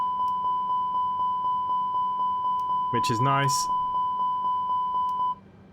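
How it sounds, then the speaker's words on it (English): Fire suppression test tone in the A32NX cockpit in Microsoft Flight Simulator 2020: a steady series of short, evenly spaced electronic beeps repeating for about five seconds, with someone briefly speaking over them midway. "If you wish to test them, we would now get a little beeping noise,"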